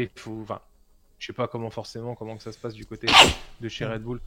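A sharp, breathy sneeze sounds nearby, partway through a man's steady French conversation, and the talking goes on after it.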